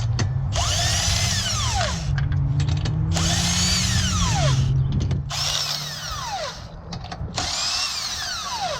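Power tool loosening the wheel on a Kia Sportage during a rear brake pad job: four loud, close whirring bursts with pitch swoops, separated by brief pauses.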